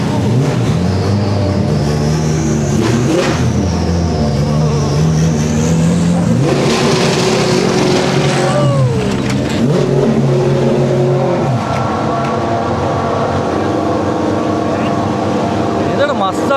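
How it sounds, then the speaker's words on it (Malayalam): Red Bull racing cars rev at the Austrian Grand Prix, engines rising and falling in loud, sweeping pitches up close, with voices and crowd chatter mixed in throughout. "ഇവിടെ റെഡ് ബുള്ളിലെ കാറുകളുണ്ട്."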